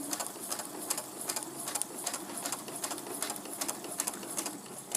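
A sewing machine slowly stitches down a quilt applique, running in a quick even whir of repeated needle strokes, close and steady, with no talk.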